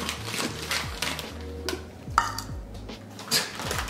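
Cookie dough being mixed in a bowl with flour and baking soda: faint scraping and clinking of a utensil against the bowl in irregular strokes, close by and quiet, with no speech.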